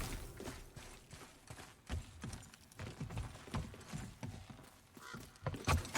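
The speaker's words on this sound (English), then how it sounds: "Sleipnir's Odin's eight-legged horse." In the God of War video game, Sleipnir, Odin's eight-legged horse, clatters with irregular hoof clip-clops mixed with faint mechanical clicks, soft and moderately close, no speech.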